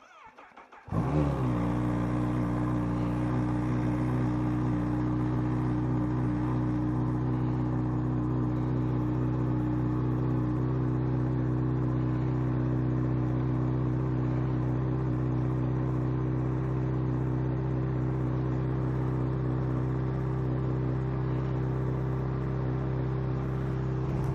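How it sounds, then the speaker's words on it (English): A car engine cold-starts with a short crank and catches into a loud, steady, rumbling idle that stays close and even for over twenty seconds. "Cold start."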